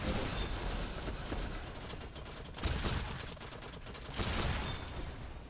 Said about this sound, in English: there's another machine gunner up there shooting at me